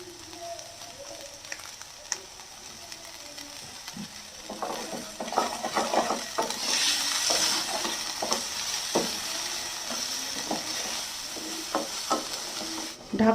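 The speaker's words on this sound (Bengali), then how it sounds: "গ্যাসটাকে কম করে দিয়ে নেড়ে ভালো করে রান্না করতে হবে।" Oats pulao with vegetables and chopped green chillies being stirred in a pan over low gas, with a steady soft sizzle and repeated scraping, clinking stirs throughout, getting busier in the second half.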